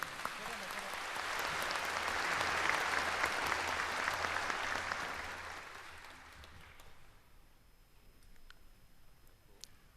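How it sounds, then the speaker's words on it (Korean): Warm applause from the audience at the 80th Liberation Day ceremony in Korea swells to a loud, dense peak over a few seconds, then fades away, leaving a quieter hall with a few scattered claps. "다시 한번 뜨거운 박수 부탁드리겠습니다"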